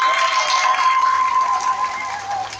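Audience applause at a speech by the president of a twins' association in Côte d'Ivoire, a steady, dense wash of clapping from a crowd, continuous and fairly loud throughout.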